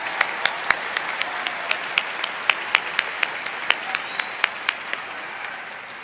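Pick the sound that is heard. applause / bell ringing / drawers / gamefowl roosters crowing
applause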